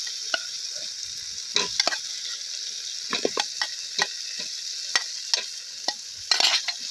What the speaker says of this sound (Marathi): मस्त असं हे हलवून घ्यायचे आपल्याला